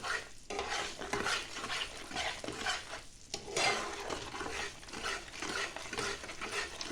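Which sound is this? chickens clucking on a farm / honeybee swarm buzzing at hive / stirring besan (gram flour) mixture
stirring besan (gram flour) mixture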